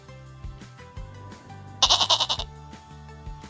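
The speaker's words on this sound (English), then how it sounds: "A goat says may." A goat on a farm gives a single wavering bleat of about half a second, loud and close, over a soft repeating musical backing.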